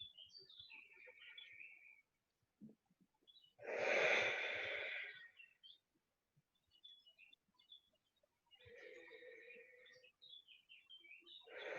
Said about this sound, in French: On peut faire quelques respirations profondes.